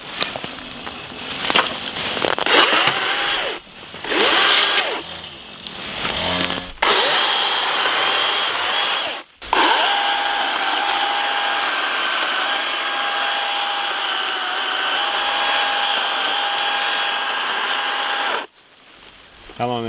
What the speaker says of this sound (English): Just grab the electric chainsaw and cut it.